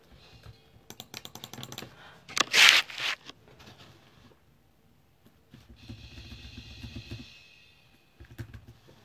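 Close computer keyboard typing used to play notes, coming in quick clattering bursts separated by short pauses, with no voices.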